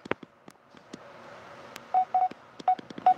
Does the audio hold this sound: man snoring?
no